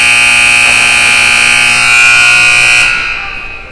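A loud, sustained electronic buzzer sounds continuously for about three seconds, then cuts off and decays, marking the end of a U17 ice hockey game in an arena.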